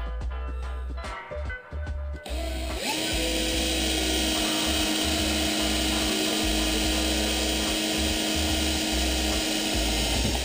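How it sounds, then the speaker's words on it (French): A power drill bores a hole into a mould for lead surfcasting sinkers, a loud steady whine running continuously after a few short taps and bursts at the start. "Et on va percer un trou"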